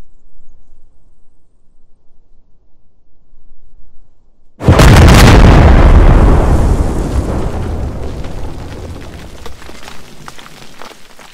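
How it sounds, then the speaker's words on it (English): A bomb explodes in the video game Squad, Squad Ops mod: after several seconds of near silence, a sudden loud close boom bursts out and rumbles, then slowly decays into a long, crackling tail. "drop some bombs on some people"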